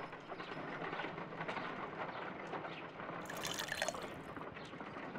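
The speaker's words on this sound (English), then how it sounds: "If I wish to shape the ice knife, then I need to pour water inside the mold." Water poured into an ice knife mold in the video game Sherlock Holmes: Crimes and Punishments, a steady liquid trickle and dripping under a constant low background hum, with a brighter splashy burst near the end.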